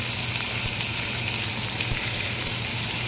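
Chopped onion frying in hot oil in a wok, cooked after okra for okra do pyaza, gives a steady, dense sizzle that runs unbroken and fairly loud throughout, with no voices.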